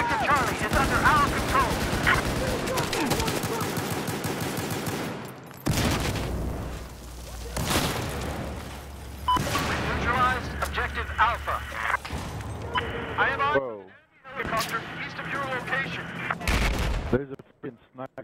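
Gunfire in Battlefield 4, with sharp rifle shots, bursts of automatic fire and booming explosions layered over game ambience, while players talk throughout.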